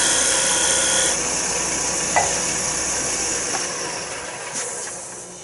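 A rod scraper shaves across end grain timber in a woodturning demonstration, producing a steady, loud, hissing scrape that runs throughout with a few small ticks.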